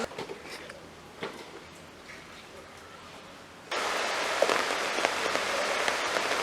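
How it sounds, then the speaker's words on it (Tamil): Heavy rain pours down in a Jaffna village in Sri Lanka during a cyclone flood, a steady broadband hiss that suddenly grows louder and denser midway, with scattered drops striking nearby surfaces. "மழை விடுற மாதிரி இல்லை"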